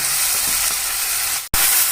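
Tomatoes and onions, with a pinch of sugar, fry and soften in a pan while being stirred, a steady close sizzle broken by one brief pause just before the end.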